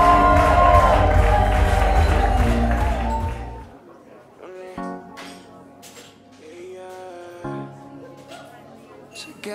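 A wedding crowd greets the arriving couple with loud applause and cheering for several seconds, then the noise drops away to scattered sounds and background music.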